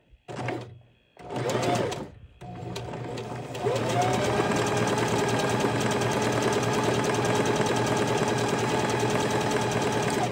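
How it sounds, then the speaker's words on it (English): A home sewing machine set to its slowest speed stitches fabric for a cosplay skirt, starting with a few short bursts and then running in a steady, close mechanical chatter. "So I have this machine set on this snail setting. And now I'm just going to go ahead and stitch."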